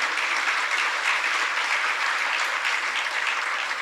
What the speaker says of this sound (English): won't you thank me in joining me in applauding Jay?